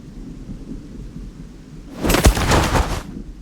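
Heavy rain hisses steadily in the background, then a loud crack of thunder bursts in for about a second before fading back into the downpour.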